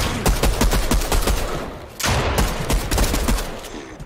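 Rapid gunfire from the Fortnite video game rings out in repeated sharp bursts, pausing briefly midway before the fast shots resume, loud and close with no talking over it.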